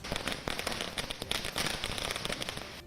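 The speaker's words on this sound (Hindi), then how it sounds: "पुणे में भी कुछ लोगों ने एक थिएटर के बाहर पठान की रिलीज की खुशी में आतिशबाजी की" Fireworks set off outside a cinema in Pune to celebrate a film release crackle in a dense, rapid string of sharp pops that carries on without a break, loud and close.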